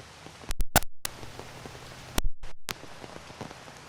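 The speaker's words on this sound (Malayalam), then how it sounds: "ശക്തമായ മഴ തുടരുകയാണ്." Heavy rain falling in Ernakulam during a prolonged downpour, a steady dense hiss of drops on surfaces, with a few sharp loud knocks and bursts breaking through.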